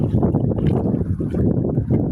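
Steady low rumble of wind and churning water from a boat moving through rough waves at sea in cloudy, rainy weather, loud and continuous with no voices.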